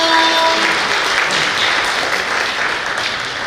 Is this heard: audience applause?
yes